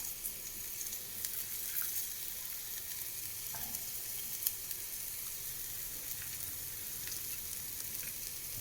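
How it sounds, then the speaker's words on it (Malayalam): Chopped beans and carrots sizzling steadily in a hot pan, a continuous fairly quiet frying hiss with occasional light scrapes and taps of a spoon stirring, no voices. "ബീൻസ് ചേർക്കുകയാണ്."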